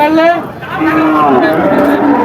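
Friesian and crossbred cattle lowing with long, drawn-out moos over a busy crowd of voices at a rural cattle market in Jhenaidah, Bangladesh, close and fairly loud, continuing for a couple of seconds.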